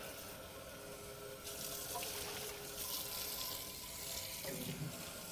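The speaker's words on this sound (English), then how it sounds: "I'm gonna wash this out." Water runs from a kitchen sink tap, splashing steadily as a pot is rinsed out, a continuous close hiss and patter that swells slightly partway through.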